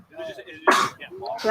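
A single sneeze bursts out sharply and close between stretches of people talking.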